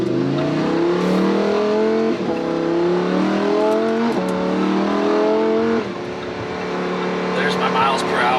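A Lamborghini Huracan Evo pulls hard through its gears, the engine note climbing in steady rising sweeps, each broken by a quick upshift about every two seconds. People talk over the loud, close engine throughout.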